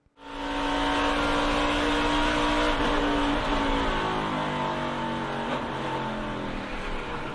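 NASCAR race cars roar around the track in a loud, sustained pack, engines holding a high, steady whine that drifts slightly in pitch as cars pass and spread out.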